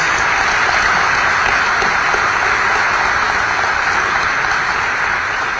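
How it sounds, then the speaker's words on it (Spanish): Loud, sustained clapping from a conference audience closing a panel debate on the ICT sector, dense and even throughout with no speech over it. "damos por concluido este primer panel de la mañana con un fuerte aplauso para los panelistas"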